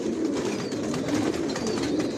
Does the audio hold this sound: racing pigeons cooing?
yes